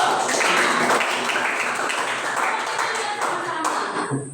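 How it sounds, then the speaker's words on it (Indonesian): A classroom of students clapping their hands together, a dense steady patter of many hands at moderate distance that fades toward the end, with faint voices mixed underneath. "Oke, tepuk tangan dulu."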